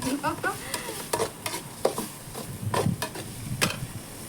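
Prawn thokku masala fries in a pan, with a continuous close sizzle and a series of sharp scraping stirs at irregular intervals. No one speaks.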